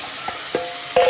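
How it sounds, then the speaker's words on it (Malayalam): Water poured into beef masala frying in a pan, giving a short hiss and sizzle with soft stirring scrapes and a louder burst at the end. "ഈ വെള്ളത്തോട് ഒഴിക്കാം."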